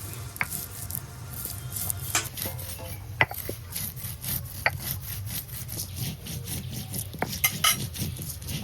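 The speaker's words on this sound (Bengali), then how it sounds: "জিরা আর ধনিয়া আমি এখন বেটে নিচ্ছি।" Whole cumin and coriander seeds are ground by hand in a kitchen, giving repeated scraping, rubbing strokes with sharp clicks and knocks, close and steady, with no talk.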